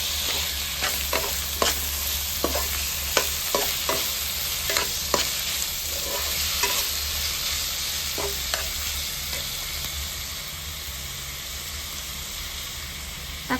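Chopped tomatoes sauté in a pan for chicken curry, with a constant hissing sizzle and frequent quick clinks and scrapes of a stirring spoon spread through the sizzle. No one talks.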